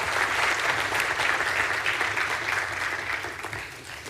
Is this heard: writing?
no